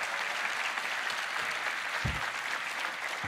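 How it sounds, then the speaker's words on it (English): Audience applause at the Roblox Developers Conference 2024 keynote, a steady wash of clapping from a large crowd that holds evenly through the whole stretch without letting up. "Let's give them a round of applause."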